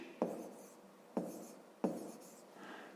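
A pen scratches on paper in three short strokes, each with a sharp onset that trails off, close and quiet, with no voices.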